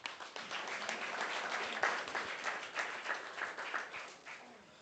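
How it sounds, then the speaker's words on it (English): A live audience applauds a talk at an event, steady dense clapping that swells and eases over about five seconds, moderately loud in a hall. "One more round of applause for Ellie."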